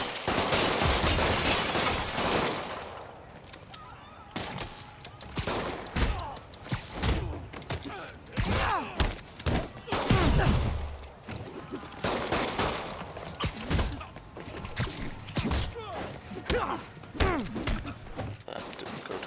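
Gunfire aimed at Spider-Man in the 2018 Marvel's Spider-Man video game: repeated loud bursts of shots and impact thuds over almost twenty seconds, with dense automatic fire at the start and irregular volleys after that.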